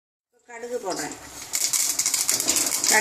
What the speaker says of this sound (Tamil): கடுகு வெடிச்சிடுச்சு